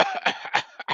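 A voice imitates a plane passenger's harsh cough, several rapid hacking bursts in about a second, loud and close.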